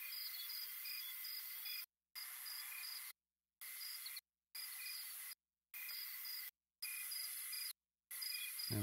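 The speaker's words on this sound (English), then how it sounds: "I don't really like that buzzing" Crickets buzz in a steady, high chirring chorus in a nature ambience track, broken into repeated segments by short stretches of complete silence.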